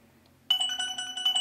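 A phone ringtone for an incoming video call starts abruptly after a brief quiet moment, a bright repeating electronic melody ringing loudly and close.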